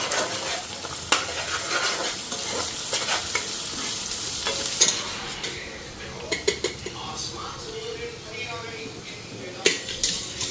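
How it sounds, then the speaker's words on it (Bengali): Egg fried rice stirred in a pan on a home stove, with a steady sizzle and repeated scraping and clinking of a spatula against the pan, close and loud throughout. "আর এদিকে বাবুর জন্য ভাত ভাজা"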